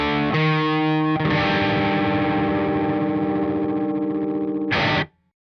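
EarthQuaker Devices Zoar distortion pedal driving a bass guitar, a thick sustained distorted chord ringing for about five seconds with a short re-strike at the end before cutting to silence, loud and alone.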